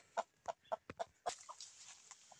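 A hen in a backyard poultry setting clucks in a run of about five sharp, evenly spaced calls, then trails into softer, scattered clucks, close and clear with no talk.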